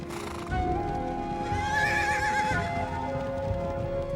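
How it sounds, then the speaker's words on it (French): An American mustang horse gives a loud, close neigh, a quavering whinny that rises and wavers for a few seconds over soft background noise. "Le mustang d'Amérique est un animal d'une beauté particulière, un animal authentique et à mes yeux, mystérieux."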